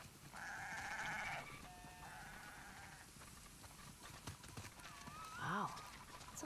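Several sheep bleat in turn over a low background murmur, with a few hoof-like clicks mixed in, in the video game The Last of Us Part II.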